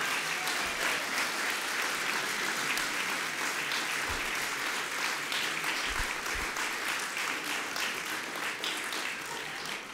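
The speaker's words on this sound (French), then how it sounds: "on pourrait faire un tonnerre d'applaudissements à Thomas Elexhauser parce que c'est lui qui" Sustained applause from a large crowd at the 15th anniversary event of the French party Les Centristes, with steady, thick clapping throughout and no voices over it.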